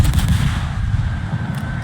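Heavy naval gunfire from the battleship Montana in World of Warships, dense low booming and rumble sustained throughout, loud and continuous with overlapping blasts.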